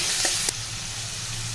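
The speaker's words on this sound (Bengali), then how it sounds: "আর একটু তেল দিয়ে পেঁয়াজ কুচো আর রসুন কুচোটা একসাথে দিয়ে হালকা ভেজে নেব।" Chopped onion and garlic, then diced tomatoes, fry in a pan of oil with a steady, close hiss of sizzling and a couple of brief stirring scrapes at the start.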